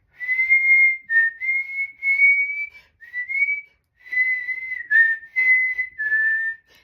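A person whistles a melody alone, a series of clear sustained notes in short phrases with brief gaps between them.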